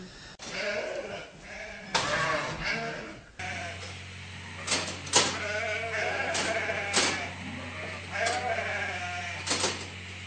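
Several sheep bleat repeatedly on a dairy farm at Prom Country Cheese in Gippsland, Australia, with loud wavering calls overlapping at close range over a steady low hum, and people talk briefly among them.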